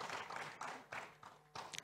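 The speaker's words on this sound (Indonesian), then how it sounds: "Tepuk tangan, please give applause to her." Audience applause at a finance seminar on building an all-weather portfolio, a short burst of clapping that swells in uneven waves, moderately close and fairly faint, with no voices over it.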